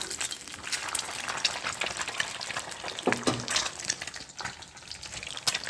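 Eggs frying in a pan for egg curry, giving a steady crackling sizzle up close with occasional stirring clatter throughout.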